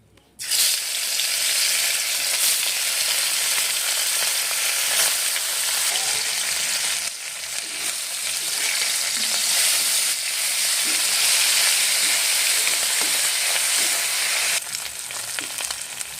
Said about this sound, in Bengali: তেল গরম হয়ে গেছে এবার একে একে মাছগুলো দিয়ে দেবো